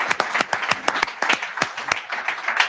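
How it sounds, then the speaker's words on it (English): A small conference audience at Recotech 2025 claps briefly, with sharp, distinct hand claps in a quick irregular patter that sounds fairly close and lasts a few seconds. "Round of applause"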